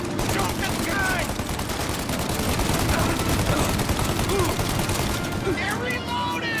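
Sustained rapid gunfire from a shootout in the video game Mafia, with dense overlapping bursts pounding throughout while voices shout over the shooting.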